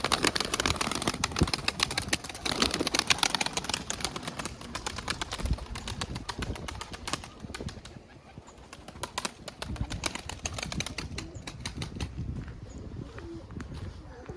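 Pigeons in their coop coo and shuffle, with soft wing flutters and light footsteps over a busy background and some human voice nearby.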